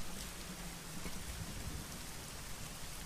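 Heavy rain pours down steadily in the adventure game Geheimakte Tunguska, a dense, unbroken hiss of water with a low rumbling undertone, heard alone.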